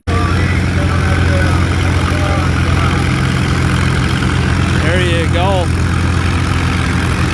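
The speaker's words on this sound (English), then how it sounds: "Good pull though for that tractor." A tractor engine drones steadily at an agricultural tractor pull, a loud, continuous low idle filling the whole stretch, while someone talks briefly over it and a few short higher tones rise near the end.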